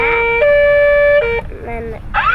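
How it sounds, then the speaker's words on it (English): Electronic siren from a kids' ride-on toy fire engine, loud steady wailing tones that step down in pitch and then shift to a rising sweep, close up. "this makes the siren"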